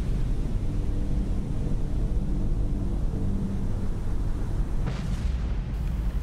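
A torpedo explosion in the submarine game Cold Waters, heard as a deep, continuous underwater rumble and boom that fills the low end, steady and heavy, with a brief brighter swell near the end.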